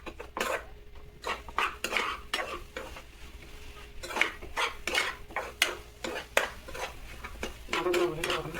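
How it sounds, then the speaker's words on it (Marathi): Eggs get stirred in a pan with a utensil, a close run of repeated scraping and clinking strokes in uneven rhythm over a faint sizzle, with a voice briefly speaking near the end. "हे परत ढवळून घ्यायचं असं."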